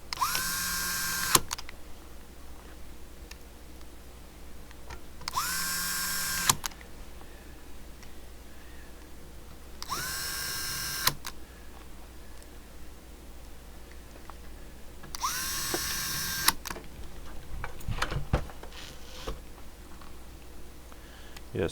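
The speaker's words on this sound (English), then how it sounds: "this screwdriver has an automatic torque setting, so it just stops" An electric screwdriver with automatic torque setting whirs in four short bursts, each stopping abruptly, over steady background hum on a CB radio repair bench, followed by a few light clicks and clatter.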